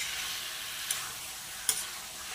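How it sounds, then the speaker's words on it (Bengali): Green chillies are stirred in a frying pan, producing a soft, steady sizzle with two brief scraping clicks of a utensil, quiet and close with no talking. "তা নেড়ে চেড়ে দিলাম।"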